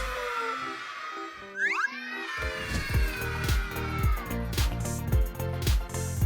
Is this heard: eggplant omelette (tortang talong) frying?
no